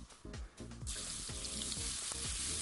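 Potatoes fry in a heated pan, a loud, dense crackling sizzle that builds after a few clattering knocks at the start and then holds steady.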